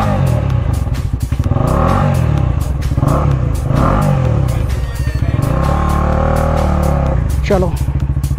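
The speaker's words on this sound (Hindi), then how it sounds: "तो बाइक को स्टार्ट करते हैं यार" A motorbike engine starts and revs steadily up close, its loud rumble filling the whole stretch with rising and falling pitch near the end.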